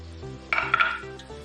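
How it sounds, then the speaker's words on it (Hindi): Ground panjiri ingredients are mixed together in a bowl, giving a short burst of scraping and rustling, spoon against bowl, over a quiet low background hum. "इस तरह हमने सारा मिक्स कर लेना है।"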